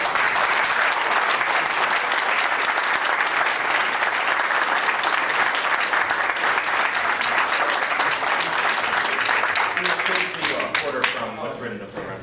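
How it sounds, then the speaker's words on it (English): Sustained audience applause and clapping at a jazz piano showcase, loud and dense crowd clapping that holds steady before tapering off near the end. "how about a nice round of applause for Mark Bocchicchio"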